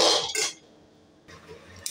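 Raw peanuts dry-roasting in a pan over a medium flame, with short bursts of clinking and rattling as they are moved around. A dense clatter opens the clip, a quiet lull follows, then softer scraping returns near the end.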